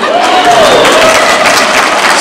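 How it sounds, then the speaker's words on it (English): Audience at a teacher professional development session bursting into loud applause and crowd noise, a continuous dense roar of clapping throughout with a faint tonal squeal passing through it. "Oh, you can clap on that."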